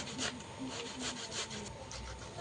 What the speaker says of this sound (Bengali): বড় সাইজের টমেটো আমি গ্রেট করে নেব।